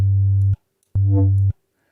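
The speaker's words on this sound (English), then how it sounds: "So we get like this kind of wobbly kind of effect." Synth bass built in Serum, with an LFO warp that makes it wobble, plays as two sustained low notes separated by a short gap, loud and close, alone.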